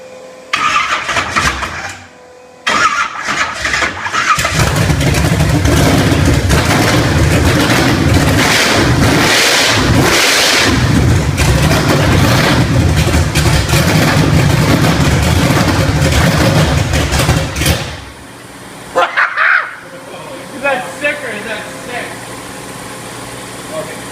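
Camaro drag car engine cranks briefly, then fires into a loud, rough, close idle that runs steadily before cutting off, followed by voices speaking.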